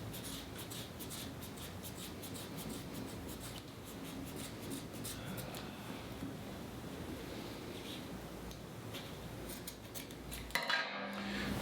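Tape wrapped tightly around the inner core of a nylon rope is cut with a blade. A faint, steady scraping and rasping continues throughout and ends in a few sharper, louder clicks.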